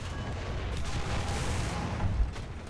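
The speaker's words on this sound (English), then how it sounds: "Did I load an HE shell? Is that what that was?" Deep booming blast of an HE shell fired from the Obj 268 casemate tank destroyer in War Thunder, a low rumbling report that swells and rolls on for a couple of seconds.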